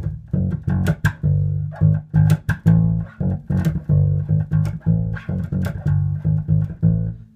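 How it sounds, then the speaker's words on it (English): A bass guitar plays a choppy, syncopated funk line: sustained low notes broken up by quick percussive ghost notes muted with the fingers, in a bouncing rhythm. "Hitting a ghost note with my fingers."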